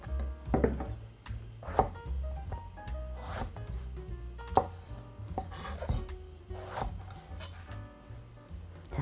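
Eggplant being cut with a kitchen knife on a board while its stem end is trimmed and the pieces halved and quartered, giving a series of sharp close chops and knocks at an uneven rhythm with soft scraping in between, no talk.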